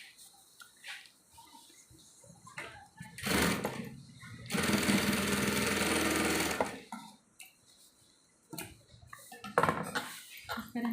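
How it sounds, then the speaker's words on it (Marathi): A sewing machine stitches a straight seam through two layers of fabric stacked for a pouch, running in one steady, loud whir of a couple of seconds between quieter handling clicks, with some talk nearby. "दोन्ही एकावर एक ठेवून एक सरळ शिलाई मारून घ्या"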